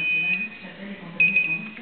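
A TIC Sécurité MN2009 home alarm control panel beeps on activation, sounding a thin, high steady tone, then a second short run of beeps, close by over a quiet room hum.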